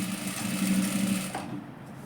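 A sewing machine stitches a blouse seam with a steady mechanical whir for over a second, close and alone, then slows and stops.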